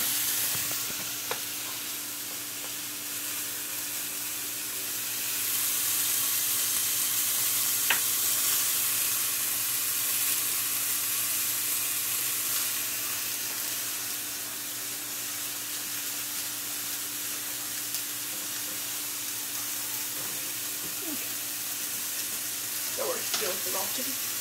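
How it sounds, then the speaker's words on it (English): Chicken frying in a pan for a Mexican chicken dish, giving a steady, loud sizzle and hiss that swells and eases slightly, with occasional clinks of a utensil and brief faint speech. "Sizzle."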